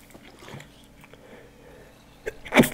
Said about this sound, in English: Sorry, I indeed need to sneeze.